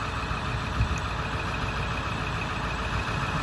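A 2001 Ford F-550 utility service truck with the 7.3 liter Powerstroke turbo diesel idles with a steady, close diesel rumble and even clatter, unchanging from start to finish.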